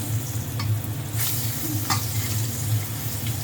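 An egg fries sunny side up in a pan with a steady, close hiss of sizzling oil, broken by a couple of brief scraping touches as it is flipped, with no voice heard.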